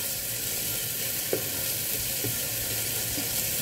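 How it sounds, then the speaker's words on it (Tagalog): String beans sizzle and fry steadily in a pan for tofu and oyster sauce, with a couple of soft scraping stirs of a spatula breaking through the constant crackle. "haluin na po natin"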